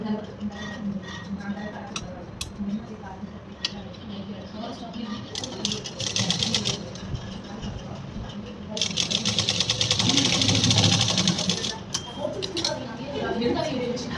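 A sewing machine top-stitches a pattupavadai blouse, running in short, irregular whirring bursts with a longer, louder run near the end, under steady speech.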